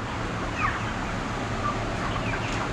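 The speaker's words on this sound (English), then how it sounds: "There's all our chickens." Chickens in yellow crates on harvest day give scattered clucks and squawks over a constant low rumble, fairly close.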